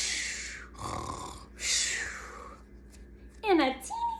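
A storyteller reading a children's book aloud imitates a sleeping bear's snoring with a few rough, breathy voiced snores, separated by short pauses, ending in a gruff vocal flourish.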